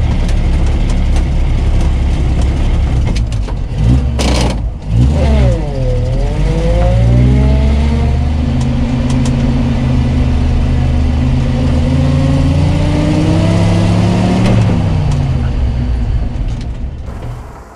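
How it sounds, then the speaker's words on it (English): Six-cylinder side valve engine of a Volvo TP21 military vehicle runs steadily and close, a constant low drone that swells into a rising and falling whine midway before settling back. "the engine, the 6-cylinder side valve engine. It's just so wonderful quiet."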